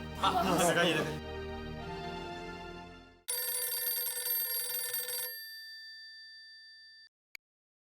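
A ringing tone repeats as an outgoing call waits to connect, following a short stretch of talking; the final ring fades, then a faint click.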